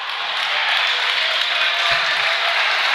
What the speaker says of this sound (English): Crowd chanting ECW.